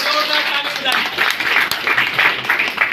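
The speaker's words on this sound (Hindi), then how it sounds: "तैयार हो जाइए, ताली बजाइए, ताली बजाइए।" An audience at a motivational training session claps hands in a loud, uneven patter that stays close and continuous, with a voice talking over the clapping.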